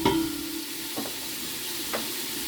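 Beef and vegetables fry in a soup pot, with a soft continuous sizzle and a few brief stirring knocks close by, no talk.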